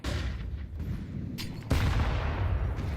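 A big grenade blast from a Counter-Strike match lands about halfway through, a loud low boom over constant gunfire-like game noise. It follows a shorter burst earlier on.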